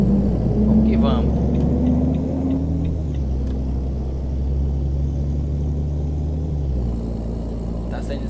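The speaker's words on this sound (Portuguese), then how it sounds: "é um caminhão de chassi rebaixado" A lowered-chassis Volvo VM truck rumbles with a deep, steady diesel drone, shifting pitch a few times as it pulls along the road from Salvador toward Alagoinhas, close and loud, with someone speaking over it.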